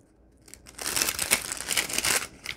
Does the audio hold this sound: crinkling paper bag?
yes